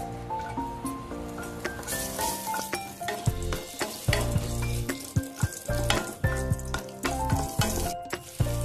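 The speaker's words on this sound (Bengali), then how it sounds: "তেল গরম হলে তেলের মধ্যে আমি জিরের ফোড়ন দিয়ে দিলাম। এবার এই কাঁচা লঙ্কা দিয়ে দিলাম।" Cumin seeds and green chillies frying in hot oil, a sizzle with stirring underneath and background music layered over it, no speech.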